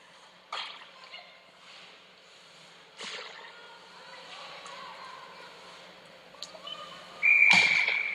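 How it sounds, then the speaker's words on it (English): A referee's whistle cuts through a junior women's ice hockey game in an arena, Jr Flyers against Stanstead. It comes as one short, loud, shrill blast near the end, over quiet rink ambience and scattered thuds. "And now we get a whistle."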